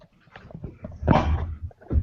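A dog gives a few brief whines and whimpers indoors, a short cluster of soft cries with a louder burst in the middle, heard close by at a modest level.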